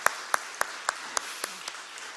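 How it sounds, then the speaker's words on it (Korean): A church congregation at an early-morning prayer service gives a few sparse, spaced claps, about eight distinct slaps at a slowing rhythm, faint and set against a quiet room. "우리 박수로 축복합시다"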